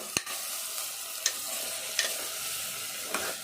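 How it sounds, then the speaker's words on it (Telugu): Fenugreek leaves and goat trotter pieces fry in oil, a steady close sizzle broken by a few sharp scrapes of a stirring spoon against the pan. "మనం కొద్దిసేపు ఇదంతా కూడా నూనెలో వేపుకుంటాం"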